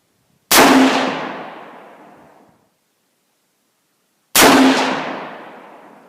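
Two loud, sharp 6.5 Grendel rifle shots firing 123 grain SST ammunition, spaced about four seconds apart, each with a long decaying echo and silence between.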